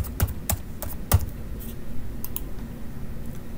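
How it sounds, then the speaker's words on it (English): Several crisp clicks of typing on a computer keyboard entering a date into a SolidWorks drawing note, a few separate keystrokes early on and then quieter taps over a steady low hum, with no talking. "and type in the date."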